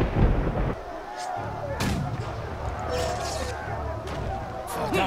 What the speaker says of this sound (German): ich habe hier einen verdammten Feuerregen, mit dem ich euch alle richtig heftig fertig machen kann